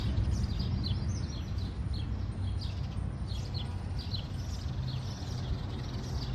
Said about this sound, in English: All those birds.